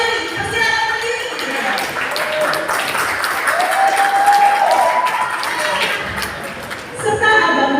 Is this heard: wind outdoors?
no